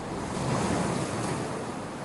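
Sea waves wash steadily against the shore below the lower level of Pilate's seaside house, a continuous broad roar of surf mixed with wind rumbling on the microphone, and no voices.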